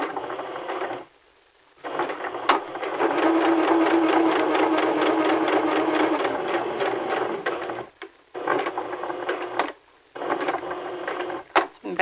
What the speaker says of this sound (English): And then you're going to stitch right down the center of that seam binding.